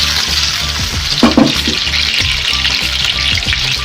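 Chicken kofta fry in hot oil over a low flame, a close, continuous sizzle with rhythmic stirring scrapes and occasional louder spits.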